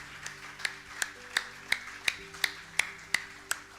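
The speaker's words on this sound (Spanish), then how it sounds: "Dale un fuerte aplauso al Señor si alguien lo recibe." Rhythmic clapping in a church service, around ten evenly spaced, crisp claps in a steady beat, fairly close, over a soft background hum.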